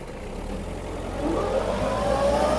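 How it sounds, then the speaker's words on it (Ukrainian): A Kubota GT-3 Japanese mini tractor engine revs up, its pitch climbing steadily as it accelerates, close and fairly loud. "Трактор дуже швидко набирає свою максимальну швидкість."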